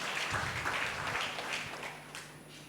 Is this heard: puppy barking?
no